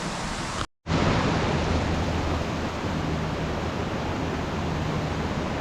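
A cold mountain stream on the Poon Hill trek in Nepal rushes steadily with a dense, constant hiss of flowing water, close and loud, with no talk.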